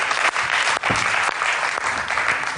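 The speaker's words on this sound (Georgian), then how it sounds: "აპლოდისმენტები." Studio audience at a television show breaks into sustained, dense applause, a steady wash of many hands clapping at close range with no voices over it.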